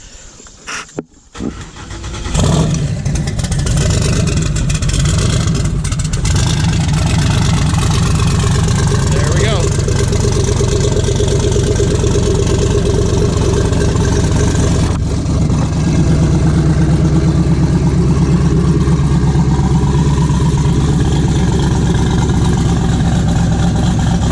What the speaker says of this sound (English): We'll do a quick little idle video, maybe a couple gas taps